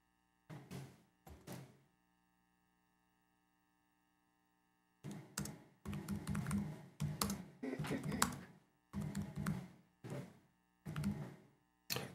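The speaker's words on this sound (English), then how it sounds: "I'm typing some stuff here." Bursts of keystrokes on a computer keyboard during a town working-group meeting, a couple of isolated taps then a pause before sustained clusters of clicky typing, close and fairly quiet in an otherwise silent room.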